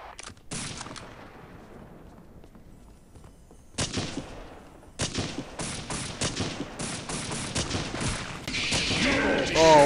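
Heavy video game gunfire builds from a few isolated shots into rapid dense volleys, growing louder and near-continuous toward the end, with occasional voices underneath.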